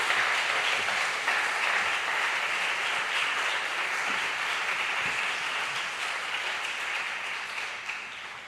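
A church congregation applauds a missionary, a broad, even roar of clapping from a large crowd that holds steady and then slowly fades toward the end.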